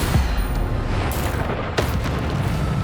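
Bombarda spell explosions in the video game Hogwarts Legacy go off as deep, booming blasts, with a couple of sharp bursts standing out over a constant rumbling din of in-game effects.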